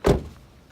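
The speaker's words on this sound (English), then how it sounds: "I'll close this door for a sec." A 2012 Toyota Corolla S car door shuts with a single solid thunk, close and fairly loud, then a short quiet tail.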